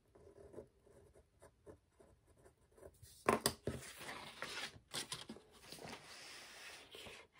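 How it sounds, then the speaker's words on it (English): Pen or marker writing on a folded paper sentence strip, a quiet scratchy scribble that grows louder and busier partway through, with short pauses between strokes and no talking. "on that fold, we will write Saturn."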